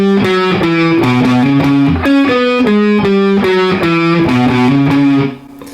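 The pre-solo riff from a song comes through on a distorted electric guitar as a loud, close run of stepping power chords. The chords fall in a steady rhythm and cut off near the end.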